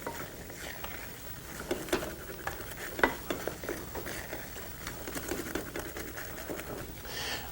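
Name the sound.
stirring chickpea flour in a pan for laddu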